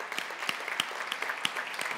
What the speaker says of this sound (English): let's start with a round of applause for Ben and Joe for putting on this fantastic event.